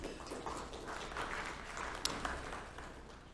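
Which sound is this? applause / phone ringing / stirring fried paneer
applause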